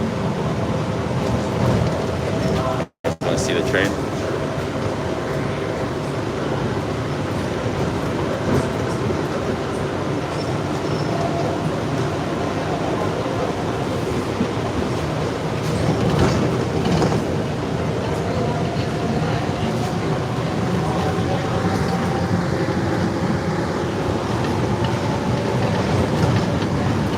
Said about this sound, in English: Want to see the train?